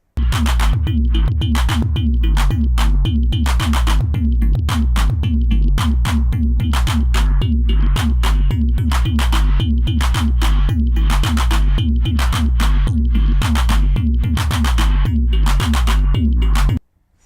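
A dense, pulsing modular synthesizer patch with rapid rhythmic hits and bright buzzy tones, steady and loud throughout, then stopping abruptly.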